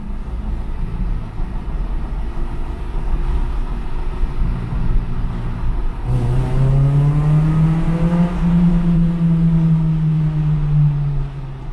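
A Honda car drives through a small tunnel under a bridge, with a steady road roar that gives way to a rising engine note as it accelerates, the pitch climbing smoothly over several seconds, loud and close.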